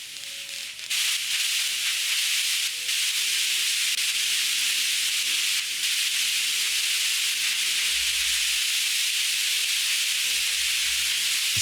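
Sonar contacts of a convoy of rolling ships in the naval game Modern Naval Warfare come through as a steady, loud broadband hiss and rumble, with faint low tonal lines and a couple of deeper thumping pulses near the end.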